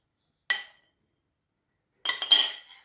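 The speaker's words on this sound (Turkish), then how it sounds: "Şöyle tuzla sodayı karıştırıyorum" A spoon clinks against a bowl while mixing salt and baking soda, with one short scrape followed by a quicker cluster of clinks after a pause. The sound is close and clear against silence.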